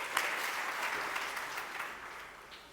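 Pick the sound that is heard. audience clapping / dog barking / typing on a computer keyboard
audience clapping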